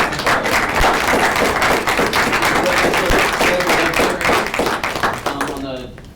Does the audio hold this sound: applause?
yes